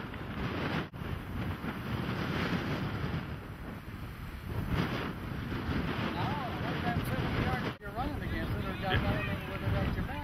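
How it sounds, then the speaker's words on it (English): Strong wind buffets the microphone in a steady, loud roar across an open football pitch, with occasional brief dropouts and voices faintly audible under the gusts. "especially a wind this strong"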